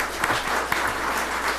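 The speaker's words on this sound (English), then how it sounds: "we'll give you a round of applause" A brief burst of audience applause for council candidates at a Richland council forum: scattered, close claps forming a continuous patter for just over a second.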